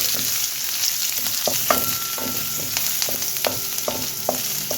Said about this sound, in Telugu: ఉల్లిపాయలు కొంచెం దోరగా వేగాలండి